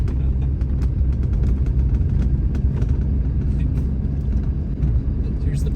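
A 2014 Ford F350 pickup rolls down a dirt road, with a continuous low engine and tyre rumble heard from inside the cab, plus scattered small knocks and rattles, while people talk over it.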